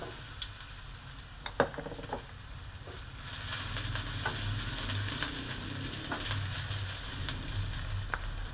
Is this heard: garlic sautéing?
yes